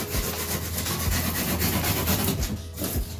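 A dinosaur piñata shaped as a T-rex is carved and sanded smooth, producing a steady, dense, close rasping scrape that runs unbroken throughout.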